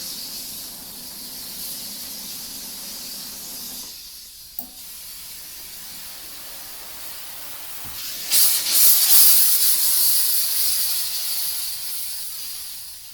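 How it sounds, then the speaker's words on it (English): A soft, steady hiss from a 125 PSI steam cleaner on a car runs throughout, with a brief gap, before a louder, harsher burst of higher-pressure steam takes over toward the end. "Now we go back to steam at higher pressure."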